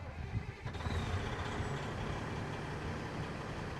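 Caterpillar 770F mining truck engine idling after start-up, a steady low diesel rumble with a faint whine, close and continuous with no talking.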